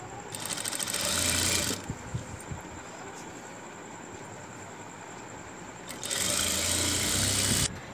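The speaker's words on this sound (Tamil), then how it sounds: "ரெண்டு பக்கமும் ஓரம் அடித்து தைச்சிட்டோம்." Two bursts of a sewing machine hemming the folded edges of fabric in a tailoring class, each roughly a second or two of fast, loud, rhythmic stitching, separated by a quieter pause of handling.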